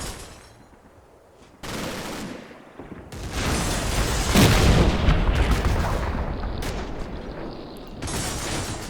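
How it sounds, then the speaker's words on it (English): A tank firing at a barn during a WWII Normandy battle game, heavy booming blasts and rumbling impacts that swell in bursts, with sharp onsets around the middle and a sustained roar, no talk. "Meanwhile, this tank is shooting at something. Shooting at this barn by the looks of it."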